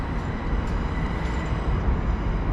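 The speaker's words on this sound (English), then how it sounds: "You can hear the trains rolling." Trains roll past in Manchester city centre, a continuous loud rumbling clatter of rail wagons filling the whole short stretch with no voices.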